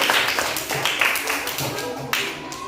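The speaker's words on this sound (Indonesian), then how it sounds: "Mari kita berikan aplaus kepada kelompok yang kelima" Applause for a student group in a classroom, a dense patter of many hands clapping steadily for a few seconds, with voices faintly under it.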